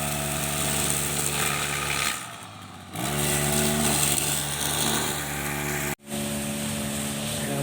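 A woman cuts grass with a grass cutter whose small engine drones steadily and loudly nearby. The engine briefly dips in pitch twice, with a very short cut-out near the end before it resumes.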